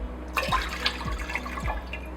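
Three cups of water stream and splash steadily into a container for syrup, a continuous close pour with light trickling textures and faint low rhythmic thumps.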